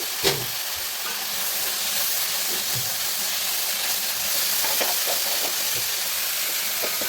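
Sliced onions with a little salt sautéing in coconut oil, giving a continuous close hiss and sizzle with a few soft clicks from stirring.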